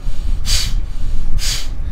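Two forceful, hissing nasal exhalations from Kapalbhati Pranayama breathing practice, spaced about a second apart, loud and close, over a low rumbling background.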